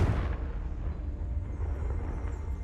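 A Confringo blasting spell cast in the Hogwarts Legacy video game: one sharp explosive burst at the start that decays into a rumbling, fading roar lasting a couple of seconds.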